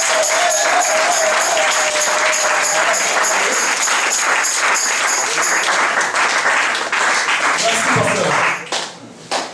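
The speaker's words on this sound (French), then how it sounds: "On va acclamer en 2015." Applause and acclamation from a church congregation during a sermon, dense steady clapping with some cheering voices, loud and continuous before thinning out near the end.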